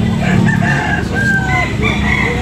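Roosters crow nearby at a gamefowl market in Carbon, Cebu, several drawn-out calls overlapping, with clucking fowl and farmyard noise underneath.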